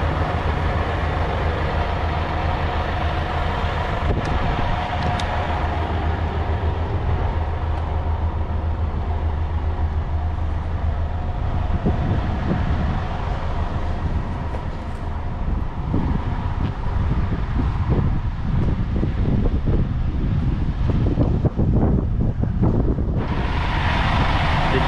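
A Scania Fencer F1 truck with a ZF Ecolife 2 six-speed gearbox drives along, giving a continuous low engine and road rumble mixed with strong wind noise for the whole stretch, with no talking.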